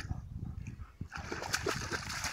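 A pointer dog splashing into marsh water, with close sloshing and splatter that grows busier in the second half.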